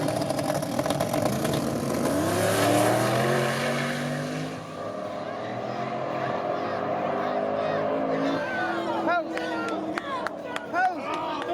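A turbocharged drag racing car engine runs with a two-step anti-lag system, a loud steady droning rev that shifts pitch, with sharp popping bursts near the end.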